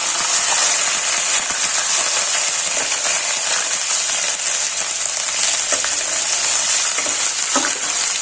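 Ginger-chili-garlic paste sautéing in hot oil for a fenugreek and muthiya curry, a steady loud sizzle and crackle with bright hiss throughout and a few faint stirring clinks, no voices.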